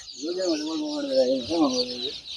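A desi chicken on a poultry farm gives a drawn-out, wavering call over a steady background hiss of the shed. The call rises and falls twice across roughly two seconds.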